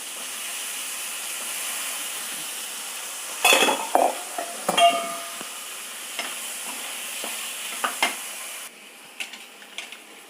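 Tomato and spice mixture frying in a pan for a South Indian curry, a steady soft sizzle with several louder scraping stirs of a spoon against the pan.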